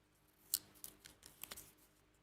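Small scissors snipping through paper along a curved line during card making, a few quiet, crisp cuts spaced irregularly, one sharper snip early, with no voices.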